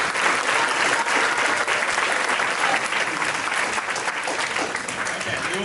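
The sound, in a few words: audience applause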